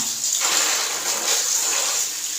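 Water poured and splashed over the disassembled parts of an Epson L310 printer during cleaning, a steady, close rushing gush without speech.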